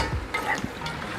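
Indian curry duck is stirred in a pot with a spoon, giving short scraping and sizzling sounds close up over a brief stretch with no talk.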